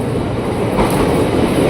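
KRL Inka commuter train rolling on the rails, a continuous loud rumble and roar of wheels and carriage noise heard from close by, with no talking.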